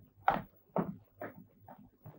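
A wooden door being bolted shut in a Turkish film scene: a sequence of four or five close, dull knocks and scrapes in quick succession, fairly quiet, with no talk.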